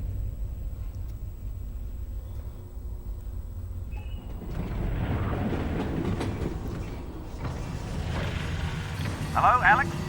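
A train rolls along its rails in the video game Half-Life: Alyx, a continuous low rumble with clattering and rattling that grows rougher and louder midway, with brief sharp metallic squeals near the end.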